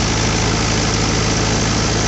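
A Mahindra 575 DI tractor engine runs steadily at about 1700 RPM while powering a wheat thresher, a loud, constant low droning hum with a dense mechanical whir and no pauses.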